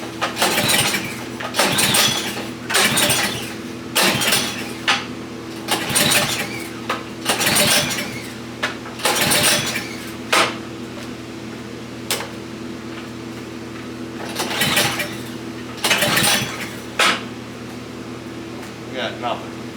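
A snow blower engine is pull-started repeatedly without catching, each tug giving a brief rasping burst of the recoil cord and turning engine, spaced a couple of seconds apart over a steady background hum.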